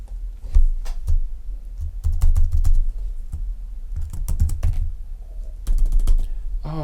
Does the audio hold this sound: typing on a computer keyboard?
yes